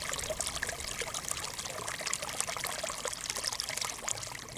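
Ilkley beck flows through gardens under crisscrossing bridges, a steady close rush and trickle of water running continuously with no voices.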